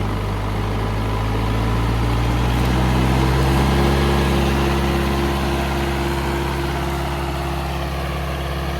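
A Leyland 154 British diesel tractor idles smoothly and close by on a cold morning, holding a steady, even low rumble throughout with no talking.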